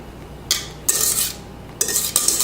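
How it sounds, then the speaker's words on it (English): Thick cheesecake batter for a New York cheesecake pours and is scraped into a pan, with several bursts of spatula scraping against the pan sides, close and fairly loud, and no voices. "Then you're going to add your cheesecake into the pan."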